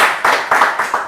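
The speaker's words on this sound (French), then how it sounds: "public, on applaudit pour moi, s'il vous plaît" A few separate, loud hand claps from a TV studio audience on a comedy show, spaced at a steady beat about every quarter second and heard up close.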